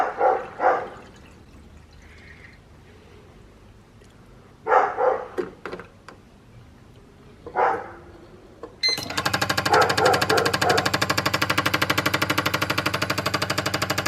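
A turbocharged Honda Civic Si with a swapped B18C1 engine settles into a loud, steady, buzzing idle for the last several seconds, after quieter stretches broken by a few short, sharp noises.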